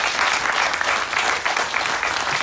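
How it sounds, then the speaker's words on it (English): Audience applause at the grand opening of the Grove Hub at the University of Guelph: steady, dense clapping from a seated crowd, sustained and even throughout without pause. "I think we should give her another round of applause as she deserves it."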